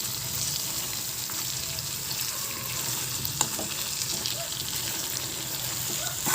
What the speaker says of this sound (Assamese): এতিয়া অলপ সময় লৰাম ভালদৰে, মাছখিনি মছলাবোৰ যাতে লাগি ধৰে তেনেকৈ লৰাই ল'ম